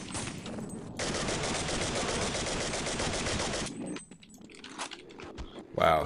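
An MP5 submachine gun in the shooter Arctic Incident fires one long, dense, loud automatic burst of close shots, then stops, leaving scattered clicks and thuds before a short sharp sound at the end.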